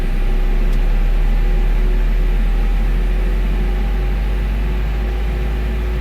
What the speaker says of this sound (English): I will be starting engine number 1.